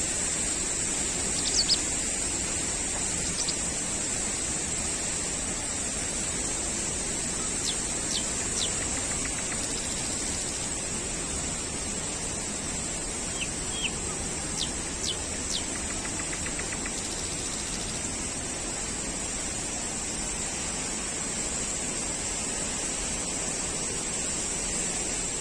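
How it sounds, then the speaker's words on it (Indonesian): Mountain river fed by the Curug Sawer waterfall rushes in a steady, even broadband wash throughout, with faint bird chirps and insect calls scattered over the flowing water. "inilah aliran sungai yang dihasilkan dari air terjun tersebut ya"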